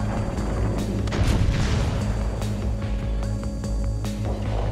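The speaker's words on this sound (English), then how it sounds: "Another salvo for the Kirov." Heavy naval gunfire from the Soviet cruiser Kirov in World of Warships Legends, a dense run of booming salvos layered over a constant low battle rumble, loud and close throughout with no talking.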